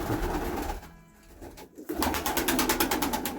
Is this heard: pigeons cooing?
yes